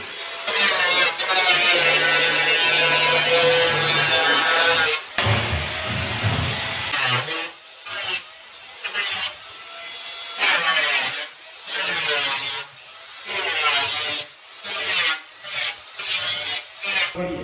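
A piece is cut through the middle with a hand saw, first a long continuous rasping stretch, then a run of regular, loud back-and-forth strokes with short gaps between them.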